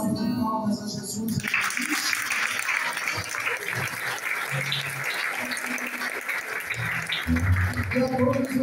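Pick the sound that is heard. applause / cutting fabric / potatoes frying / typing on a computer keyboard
applause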